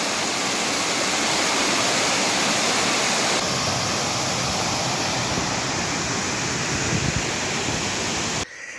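The waterfall at Sillans-la-Cascade, in Provence, sends out a steady, dense roar of falling water, loud and close throughout, ending with a brief drop in level.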